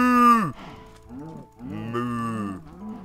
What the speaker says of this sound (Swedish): Åh, en ko. Hallå kon.